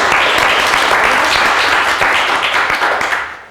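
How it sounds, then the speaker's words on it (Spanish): Loud, sustained applause from an audience at a science panel discussion, a dense wash of many clapping hands that holds steady, then begins to thin and fade toward the end. "para que nos pidan un fuerte aplauso"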